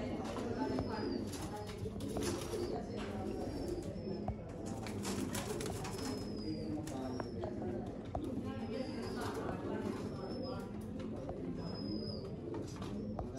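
Sialkoti pigeons coo in low, repeated rolling calls, with brief higher chirps above them and someone talking close by throughout.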